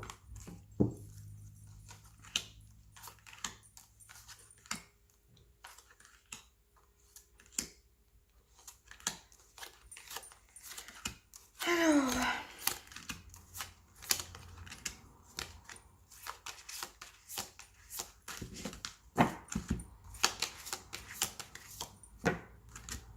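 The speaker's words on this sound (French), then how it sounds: "J'adore faire des mélanges de cartes comme ça" A deck of cards shuffled by hand, with repeated soft riffling and clicking bursts, close and fairly quiet, forming an irregular crackling pattern with one longer, denser riffle in the middle and no talk.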